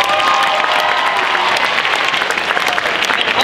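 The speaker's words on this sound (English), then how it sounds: "can we also give a hand for all of the students who have performed already and did a fantastic job?" Audience at a holiday vocal music concert applauds student performers, with dense, loud clapping sustained evenly from start to finish and a faint crowd murmur beneath.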